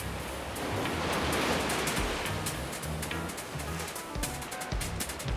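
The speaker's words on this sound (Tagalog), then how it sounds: "Malakas ang alon." Strong sea waves at a shipwreck site off Dasol, Pangasinan make a continuous, fairly soft rushing surf, swelling and easing without any voices.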